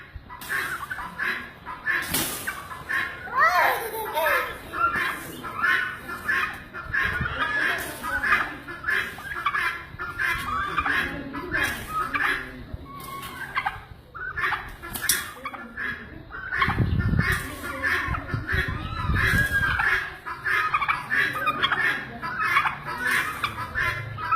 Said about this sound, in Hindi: इस वीडियो में ये छोटे से बच्चे की वीडियो है जिसमें ये एक बड़े से मुर्गे के साथ लड़ाई करता है।